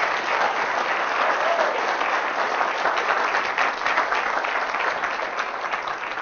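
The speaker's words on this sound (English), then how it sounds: "Give them a round of applause for just being on here" Sustained audience applause for student speakers after a stage talk, a thick even roar of many hands clapping that continues steadily the whole time without talk.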